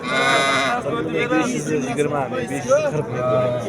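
Several goats, mothers with kids, bleat loudly and close by, overlapping with one another amid the murmur of a crowd at a livestock market in Syrdarya.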